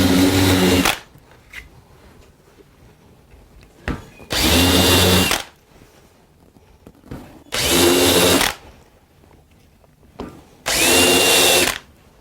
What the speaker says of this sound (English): to make a countersink for the screw heads.